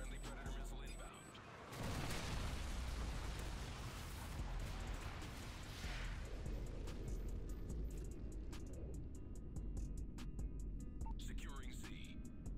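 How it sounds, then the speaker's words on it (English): A predator missile strike in Modern Warfare 3 lands with a sudden heavy boom that rolls into a long, loud rumble of gunfire and debris, while distant shots pop over the din. "Friendly predator missile inbound."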